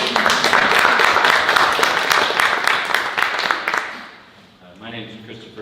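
Audience members at a poetry reading clap crisply for several seconds before the applause fades out, and a voice then begins speaking near the microphone.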